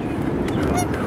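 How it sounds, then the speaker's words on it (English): A Canada goose honks repeatedly at close range, loud nasal calls coming in quick bursts over outdoor background noise. "Oh, still yapping away. Yeah, you fly away, Goose. Get away, Canadian Goose."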